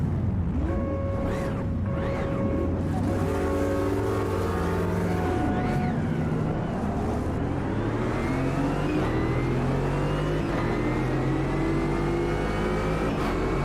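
A supercharged race car engine in Automobilista 2 runs loud and continuous, its tone climbing and dropping through gear changes with a high supercharger whine layered over the rising revs.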